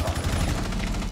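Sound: gunfire in Rainbow Six Siege video game

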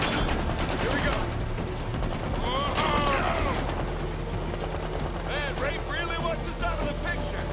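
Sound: gunfire in video game Uncharted 4

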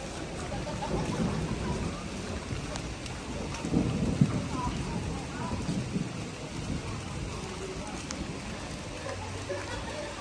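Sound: rain and thunder

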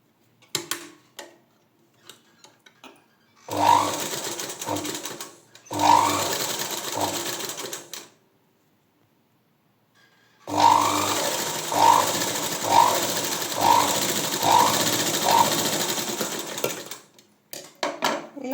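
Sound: sewing machine stitching fabric for dori hangings

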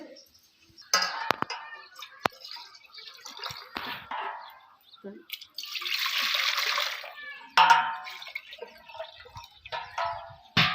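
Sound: water poured into pot

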